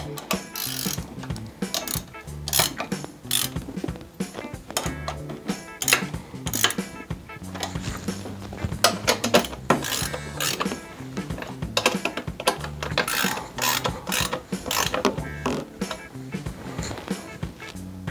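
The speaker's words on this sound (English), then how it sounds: "now with our 17 millimeter, we will tighten down our frame bolts." A 17 mm wrench ratchets steadily while tightening the frame bolts on a Miami Sun Baja trike, with dense, rapid clicking and metallic clinks that run continuously and fairly loud throughout, without speech.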